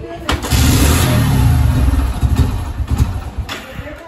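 A 2018 motorcycle with a dead battery is kick-started and its engine catches, running loud and close with an uneven rumble and brief revs, and voices talk over it.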